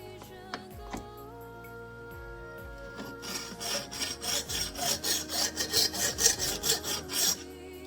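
A knife blade is drawn across a whetstone, with a few light scrapes at first, then a rhythmic series of repeated rasping strokes that grow louder and steadier, heard alone.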